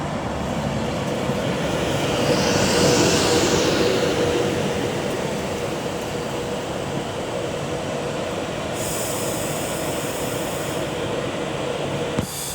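A Class 390 Avanti West Coast train runs into Milton Keynes Central on the West Coast Main Line, a steady loud rumble of wheels and motors with a brief high whine early on.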